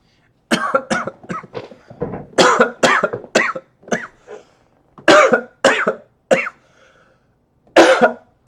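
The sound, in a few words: coughing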